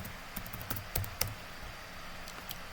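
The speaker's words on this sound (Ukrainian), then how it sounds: "Пишемо повторний пароль" A computer keyboard clicks as a password goes in, a few scattered close keystrokes over quiet room tone with no speech.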